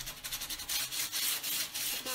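Rhythmic scratchy rasping of sandpaper rubbed back and forth on a glass cup, close and fairly quiet, repeating in quick strokes.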